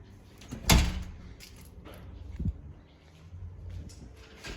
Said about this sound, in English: right, close the door